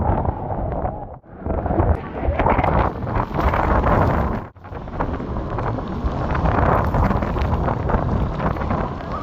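Strong wind buffets the microphone in Makkah during heavy rain, loud roaring gusts with two sudden brief drops in the blast, a voice faintly mixed in.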